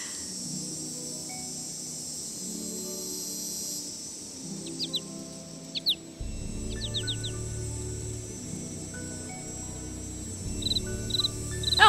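Scattered bird chirps and short calls at Moon Lake in a video game, brief bright tweets over a soft insect-like ambient bed that thickens partway through, no speech.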